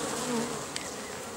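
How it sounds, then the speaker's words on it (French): Dense, steady buzzing of honeybees crowding an overfull nucleus hive settled by a swarm at an apiary, a continuous close drone with no talking. "il y a une ruchette d'un essaim qui s'est enruché dedans tout seul"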